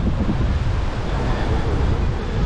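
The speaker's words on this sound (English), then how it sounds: "God, you can hear them waves chopping up," Choppy sea waves at Torrevieja harbour on Spain's Costa Blanca make a continuous rushing surf, mixed with heavy gusts of wind buffeting the microphone.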